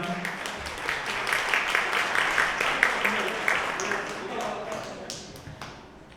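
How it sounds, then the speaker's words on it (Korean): Wedding guests applaud after a wedding song, a dense, steady patter of clapping that swells and then slowly fades, with faint voices murmuring underneath. "뜨거운 박수 다시 한번 부탁드립니다."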